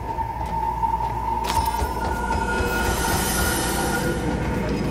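A train in Cyberpunk 2077 rolls past a platform, wheels squealing in a high sustained whine over a dense rumble and rattling of cars, loud and continuous for several seconds.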